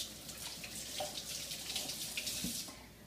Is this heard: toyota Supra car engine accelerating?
no